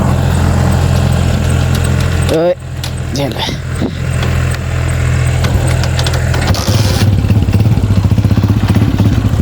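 A scooter engine idles loudly close by with a steady buzzing drone, briefly cut by clanks and a rev, while someone speaks.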